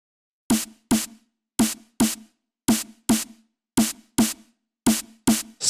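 Dry snare drum sample played in Ableton with no effects, ten crisp hits falling in quick pairs with short silences between them, loud and close with a low body under the bright crack.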